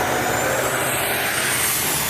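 A loud truck roars close by at a busy truck stop, a steady broadband engine and air rush filling the whole stretch with no talk.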